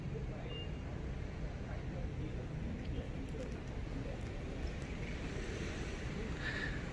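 Waves lap at the beach of an artificial sea lake, a constant broadband wash with wind buffeting the microphone and faint distant bird chirps and other background activity.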